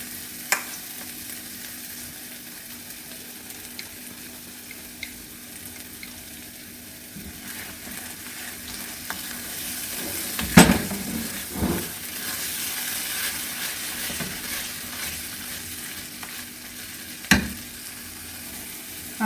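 Masala and yogurt fry in a pan for chole with a soft continuous sizzle, punctuated by occasional clinks and scrapes of a spoon stirring, and no voices.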